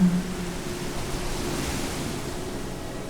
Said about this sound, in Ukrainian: Прямо зараз ви чуєте, як поблизу хвилюється великий і могутній океан.